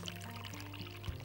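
Water pours from a cup into a mixing bowl of qatayef batter made without yeast, a continuous splashing rush over about a second with a soft thump near the end, close and moderately loud, no voices.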